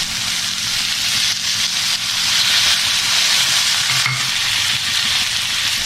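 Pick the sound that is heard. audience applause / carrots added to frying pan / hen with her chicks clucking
carrots added to frying pan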